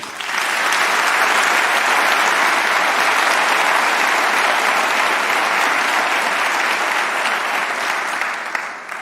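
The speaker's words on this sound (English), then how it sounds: "So can we give them a round of applause, please?" An audience at Cal State Fullerton's 2024 convocation claps in sustained, dense applause that starts abruptly, holds evenly for several seconds, then tapers slightly at the end.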